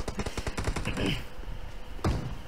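Rapid rattling gunfire in the video game PUBG, fast repeated shots in a dense string followed by a separate louder shot, with game ambience behind.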